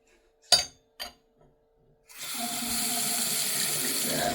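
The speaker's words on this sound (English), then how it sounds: "Faucet works." A repaired faucet is opened: a couple of sharp clinks of the handle, then water gushes steadily into the sink, loud and close for the remaining seconds.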